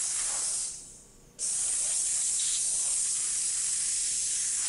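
A 200 PSI commercial vapor steam cleaner blasts steam into a car console during auto detailing, a loud steady hiss that dips briefly near the start and then runs on at full strength.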